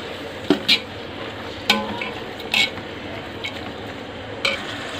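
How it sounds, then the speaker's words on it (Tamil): Vegetables frying in oil with ginger, garlic and green chili paste for egg and vegetable biryani: a steady sizzle with several sharp scrapes of a spoon against the pan. "காயெல்லாம் நல்லா வதக்கிட்டோம்."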